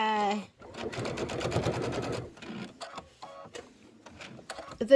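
A home embroidery sewing machine stitches quilting on a Kimberbell Sweet Land of Liberty pillow, a close, rapid mechanical chatter that runs steadily for about two seconds and then breaks into short, irregular bursts of stitching.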